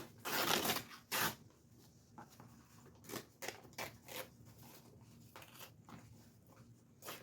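Embroidered patch backing being torn apart by hand, a run of short, crisp ripping and scratchy bursts, loudest near the start and then scattered and softer, close up with no talking.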